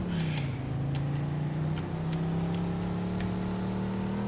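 Car in Mafia 2 with its wheels spinning and skidding as it struggles for grip, a steady engine drone under strain with faint scrapes and knocks, close and continuous, no talk.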